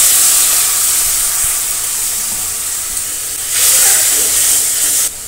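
Spice paste of turmeric and chilli powder hisses and sizzles loudly in a hot pan after a splash of water, a continuous close steam-like hiss that swells midway and cuts off sharply near the end, with no talk.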